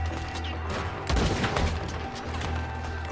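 A Gatling gun in the video game Red Dead Redemption 2 hammers out a dense, continuous rattle of rapid shots with a heavier thump midway, loud and close.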